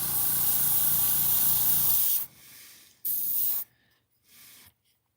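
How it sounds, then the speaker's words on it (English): A spray paint gun puts black paint on slot car model parts: a loud, close, continuous hiss for about two seconds, then a softer stretch and a few shorter bursts as the trigger is eased. "when you press the trigger very softly, it will only spray a little bit"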